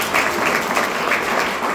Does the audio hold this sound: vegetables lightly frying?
no